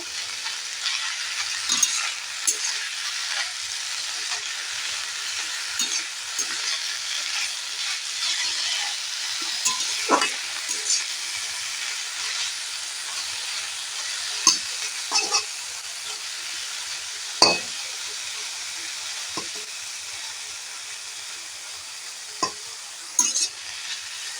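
Bottle gourd greens stirred and frying in a pan, a steady close sizzle with irregular scraping and clacking of the spatula throughout.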